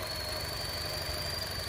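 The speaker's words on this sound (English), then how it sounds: "you hear that? That's the sign of a bad PCV valve right there." Chevy Cruze engine idling with a vacuum leak from a bad PCV valve gives a steady, faint, high-pitched squeal whistle over a low, even engine hum.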